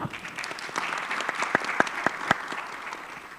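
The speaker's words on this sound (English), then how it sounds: "I would like to have your applause." Applause fills a multi-purpose hall at a conference session, a steady wash of many hands clapping at moderate loudness with a few sharper, closer claps standing out in the middle.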